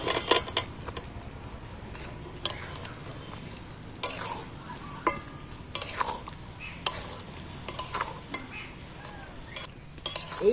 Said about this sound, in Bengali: এবার ভাজা আলুগুলো তুলে দিচ্ছি।